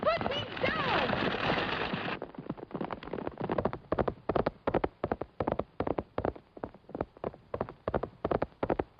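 Horses pulling a wagon clip-clop along at a steady trotting rhythm, the hoof beats close and clear, with a voice talking briefly at the start.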